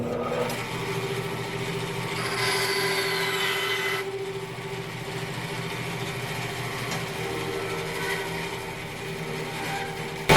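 A saw blade cuts a wooden pen blank held in a clamp, giving a steady whining, grinding drone that runs throughout at moderate, even loudness, with a brief knock at the very end.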